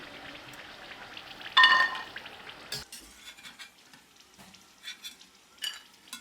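Gavvalu dough shells deep frying in oil over low heat, a faint soft bubbling fizz with a brief louder clatter of a utensil early on, then quiet scattered crackles.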